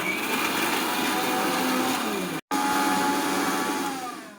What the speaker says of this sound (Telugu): let's do mixie